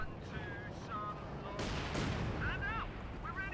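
Incendiary artillery fire in Company of Heroes 2 lands as a rumbling barrage of blasts in the middle of the clip, with a commentator talking over the battle throughout.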